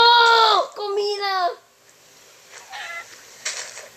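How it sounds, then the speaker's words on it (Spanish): A chicken in a video game gives two loud, drawn-out squawking calls near the start, followed by quieter scattered game sounds. "La señora gallina puede ir volando."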